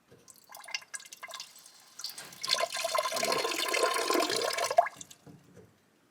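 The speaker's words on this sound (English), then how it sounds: "To fill my Berkey filter, and this is the water I use to drink, I just turn the container around, open this lid" Drinking water pours from a turned container into a Berkey gravity water filter, a steady splashing gush swelling after a few opening clunks and drips, then stopping abruptly, close and fairly loud with no talk.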